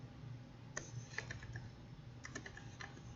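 Typing commands on a computer keyboard, quiet close key clicks in short bursts over a low steady hum.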